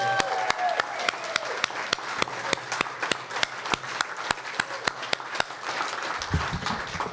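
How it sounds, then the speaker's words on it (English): Audience applauding a poet at a faculty presentation: a steady patter of many hands, with sharp individual claps standing out near the front, continuing throughout and thinning toward the end. "let's give Gail another big round of applause"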